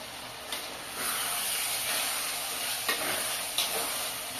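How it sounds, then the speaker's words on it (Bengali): Minced chicken keema with meat masala being stir-fried in a pan, giving a steady close sizzle and hiss with a few scraping stirs breaking through. "ভালোভাবে কষিয়ে নেব।"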